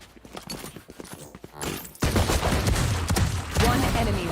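Rapid gunfire from the video game Valorant during a VCT 2023 LOCK//IN São Paulo esports match: scattered shots at first, then a louder, sustained burst of firing with faint voices underneath.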